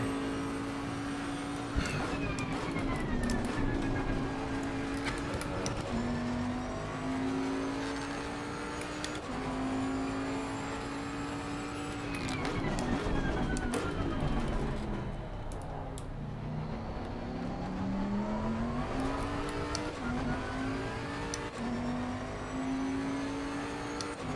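A Ferrari race car in Assetto Corsa Competizione at Donington, its engine revving and shifting through gears with rising and falling pitch, loud and continuous alongside other racing cars' engine drone.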